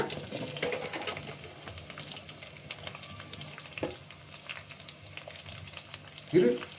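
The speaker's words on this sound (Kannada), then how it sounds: "ಈರುಳ್ಳಿ ಸ್ವಲ್ಪ ಗೋಲ್ಡನ್ ಬ್ರೌನ್ ಬರೋವರೆಗೂ ಫ್ರೈ ಮಾಡ್ಕೊಳ್ಳಿ" Onions frying in a pan for egg rice, a steady moderate sizzle with scattered stirring clicks and a louder scrape near the end.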